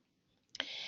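Computer mouse clicks while saving a search in real-estate reporting software, a quick faint tick or two followed by a soft steady hiss, no talking.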